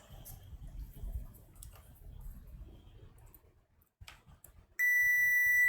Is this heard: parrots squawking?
no